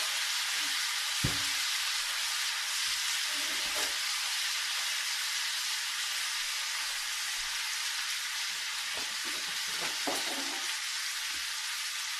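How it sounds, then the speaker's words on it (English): Apples caramelizing with sugar, lemon juice and butter in a pan over medium-high heat give a steady, loud sizzling hiss throughout, broken by a few soft stirring clinks. "The sugar and the lemon juice and the butter are going to caramelize the apples and make them really tasty."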